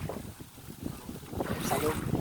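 Gusty wind buffets the microphone with low rumbling bursts, mixed with water sounds as if out on a moving boat.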